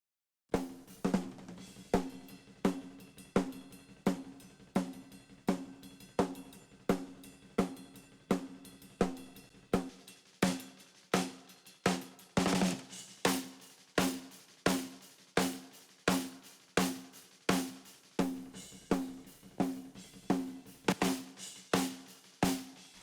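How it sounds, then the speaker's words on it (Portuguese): A snare drum in a power metal mix strikes steadily on its own, first dry, plain and dull, then crisper and brighter with mixing plugins after a pause, with one heavier crash-like hit near the middle. "caixa sem nada, depois o som da caixa com os plugins."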